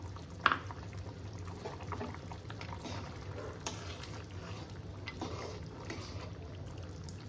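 Fried lentil dumplings go into a simmering fish curry with boiled potatoes, a soft plop and splash at the start, then low bubbling and faint stirring through the rest.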